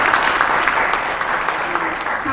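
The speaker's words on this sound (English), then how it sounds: "Please give him a huge round of applause." An audience at a book launch claps in a full, sustained round of applause, with faint voices mixed into the clapping.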